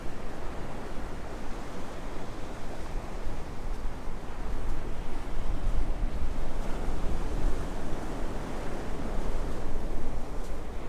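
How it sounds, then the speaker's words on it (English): Ocean surf rolling onto Myrtle Beach, a steady broadband wash of breaking waves that swells slightly louder midway, with some wind buffeting the microphone and no voices. "just have a moment of listening to this surf"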